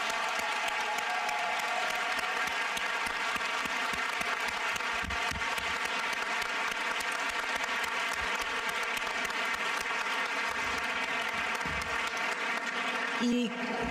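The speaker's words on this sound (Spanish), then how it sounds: "Quiero dar un aplauso a las intérpretes y los intérpretes." A room of listeners at a Spanish-language feminist conference panel applauds for the interpreters, a long, even patter of clapping that runs for over a dozen seconds against a steady tonal hum.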